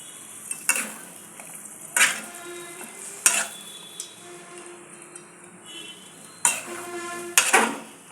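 Fish coated in masala is stirred in a pan, with a spoon knocking and scraping the metal in loud irregular bursts over a light, continuous sizzle between strokes.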